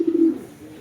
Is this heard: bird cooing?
yes